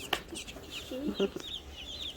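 Chickens cluck softly on a homestead, with a few short, scattered clucks and calls at close range over a quiet background, with faint voices in the background.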